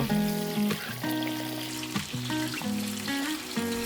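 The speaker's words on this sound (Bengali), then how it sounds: "রাঙা আলুগুলোকেও ভাজতে হবে অল্প কিছুক্ষণের জন্য।" Sweet potatoes frying in a wok give a steady, close sizzle that carries on without a break, with tuneful background music playing over it.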